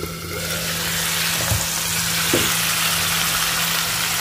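Eggs frying in a pan on a home stove, a close, loud, continuous sizzle with a few soft stirring scrapes and a low steady hum underneath.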